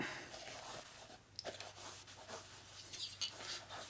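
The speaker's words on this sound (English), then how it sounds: "So I already wiped the rag through once." A rag rubs grit out of a Harley Sportster engine part in quiet, scratchy strokes. The soft wiping repeats close by with a few small clicks and no talking.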